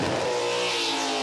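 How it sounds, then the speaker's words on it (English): A burnout car with big blowers and injector hats revs hard at a competition, its crisp, tuned engine holding a loud, steady roar at close range with no talk over it. "Got a really good tune in this engine. You can hear how crisp it is."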